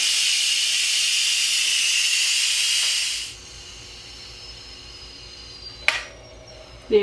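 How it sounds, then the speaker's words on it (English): Steam and pressure rush out of an Instant Pot release valve in a loud, steady hiss for about three seconds, then cut off sharply, leaving quiet with a couple of small clicks and knocks. "push this like that and it's going to release all the steam and pressure"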